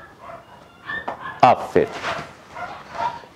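Two trained dogs bark on a speak command, loud close woofs in a quick pair followed by softer whimpering, while a trainer speaks briefly.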